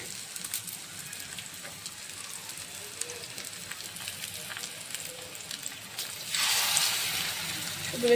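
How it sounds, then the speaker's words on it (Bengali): Pumpkin flower fritters (bora) dropped into hot oil, giving a steady soft sizzle throughout that swells into a louder, brighter frying hiss toward the end, close by with no talk. "আর এখন শুধু বড়াটা দেওয়ার পালা এইরকমভাবে বড়া দিয়ে এইরকম দুপাশ করে"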